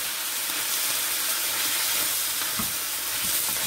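Bean sprouts, chicken and prawns sizzle and fry steadily in a hot pan for chicken and vegetable chow mein, a continuous close hiss with occasional stirring knocks.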